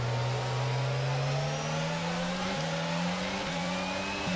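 A Formula 1 car engine in the F1 22 video game at the Canadian Grand Prix, a loud, close, sustained whine that climbs steadily in pitch, with brief dips at gear shifts.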